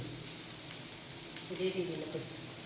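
Sliced onion frying in a pan for a home-cooked Kerala meal, giving a steady, soft sizzle that swells briefly midway and stays fairly faint throughout.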